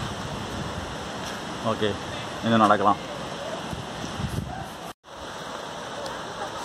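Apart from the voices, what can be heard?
flowing water of a stream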